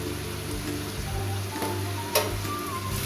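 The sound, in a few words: chicken gizzard pepper fry being stirred in pan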